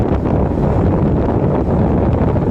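Steady, heavy wind buffeting the microphone while riding a 125cc motorcycle across the CCLEX bridge, a continuous low roar with no pauses and no voices.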